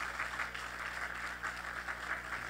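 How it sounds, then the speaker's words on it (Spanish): Church congregation applauding together, steady mid-level clapping filling the room for a couple of seconds with a low hum beneath. "Dale ese aplauso más fuerte al Señor, amén."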